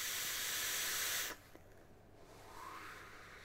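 Loud steady airflow hiss from a Zathog RDA atomizer being vaped, cutting off abruptly partway through, then quieter background with a faint rising draw near the end.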